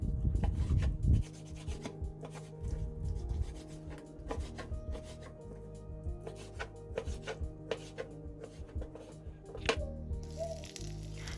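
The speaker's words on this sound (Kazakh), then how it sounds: "тауық етін ірілеу қылып тураймыз." Chicken meat being cut into chunks with a knife on a board for a chicken and mushroom quiche, a series of quiet close-up chopping taps and soft rubbing strokes in an irregular rhythm, no talking.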